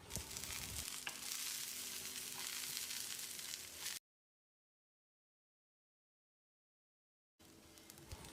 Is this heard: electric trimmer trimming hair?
no